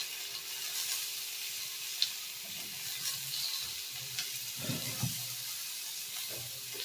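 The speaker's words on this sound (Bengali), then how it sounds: "নুন আর হলুদ দিয়ে আলুটাকে একটু ভেজে নেব।" Cubed potatoes fry in oil with salt and turmeric for a curry, a steady soft sizzle with occasional stirring scrapes and clinks, fairly quiet and continuous with no talking.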